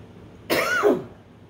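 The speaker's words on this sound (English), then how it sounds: "A little bit of an extra cough this morning" A single harsh cough bursts out close by, lasting about half a second, with a short raspy tail and quiet room tone before and after.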